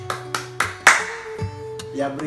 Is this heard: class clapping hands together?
yes